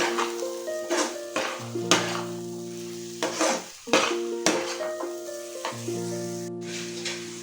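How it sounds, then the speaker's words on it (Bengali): Mutton with peas and meat masala is stir-fried in a pan, with a spoon or spatula scraping and clanking against the metal in repeated strokes over a continuous close sizzle. "দিয়ে আমি এটা দিয়ে এবার কষতে থাকবো এটাকে।"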